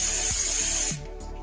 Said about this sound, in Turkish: Bu çekili vaziyetteyken silikon spreyimi alacağım. Bu ucunu kullanacağım şimdi püskürtmeli.